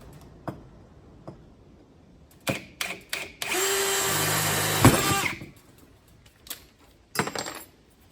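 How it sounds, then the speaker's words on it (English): A power drill bores holes in a metal plate for a sickle bar mount, a steady close whine for about two seconds, framed by scattered clanks, ticks and a sharp metallic knock of tools on metal. "We just need to drill some holes."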